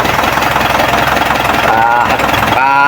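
A freshly overhauled truck engine of Isuzu Elf or L300 type runs loud and steady at a rough idle close by, with voices talking over it.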